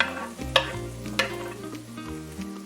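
Cooked turkey pieces go into a hot pan with a couple of sharp clatters, followed by a low, steady sizzle and faint stirring scrapes close by, with no talking.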